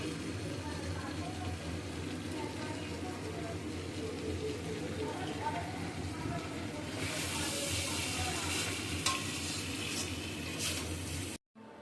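Chicken with curry leaves and garlic frying in white oil, a steady hissing sizzle that grows brighter and louder partway through before cutting off abruptly.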